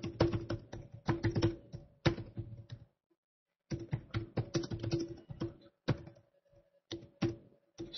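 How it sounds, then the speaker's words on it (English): Typing on a computer keyboard: quick bursts of clicky keystrokes, close and fairly loud, broken by a pause of under a second before the tapping resumes in uneven runs. "I'll type it up here."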